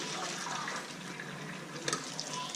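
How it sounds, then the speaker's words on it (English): Cooking liquid from pressure-cooked beans pours out of the pot into a bowl, a steady splashing trickle running the whole time with a few louder gushes near the end, close by and with no talking. "I'm going to dump almost all my liquid out."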